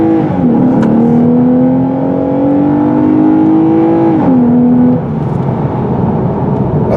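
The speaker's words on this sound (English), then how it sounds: "Well, this car isn't that quick. It certainly sounds quick." A 2023 Lexus RC350 F Sport accelerates onto a freeway at night, its engine note rising steadily and loudly, dipping briefly at an upshift, then fading into a continuous rush of road and wind noise, with no talking.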